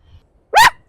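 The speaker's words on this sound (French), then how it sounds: "Voilà la réaction des chiens quand il y a un drone." A dog gives a single sharp, close bark, reacting to a drone flying overhead during an outdoor picnic.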